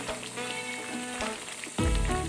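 Pepper chicken gravy bubbling and sizzling in a pan on medium flame, a steady close fry with scattered pops, then a louder, fuller burst of sizzling near the end as the pan is stirred or disturbed.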